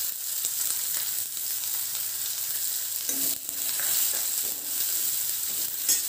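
Onions sizzling in hot oil with popped mustard and fenugreek seeds for a spicy tomato garlic gravy, a steady close crackling hiss with a brief louder burst as they drop in, no talking.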